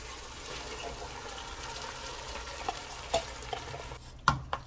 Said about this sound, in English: Now it's time to put the beans in.